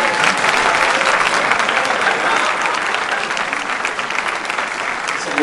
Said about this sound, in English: Oh, super. A lot of applause.